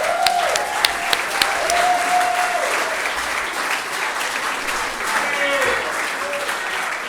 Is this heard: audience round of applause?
yes